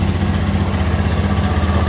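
A Honda automatic scooter engine runs after being started with the starter, giving a steady, loud, close idle drone that continues without a break.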